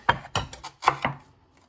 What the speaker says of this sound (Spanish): Ahora voy a picar la cebolla